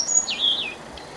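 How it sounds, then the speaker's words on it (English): Bird song in a quiet, peaceful English countryside in May: a single high, sweeping whistled phrase that slides down and levels off, with a fainter chirp after it, set against a hushed background. "The birds were singing in the air"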